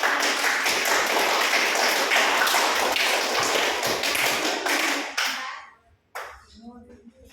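A classroom applauds its presenting student groups with dense, busy clapping for about five seconds. The clapping then thins out and stops, leaving a brief voice and a few scattered sounds.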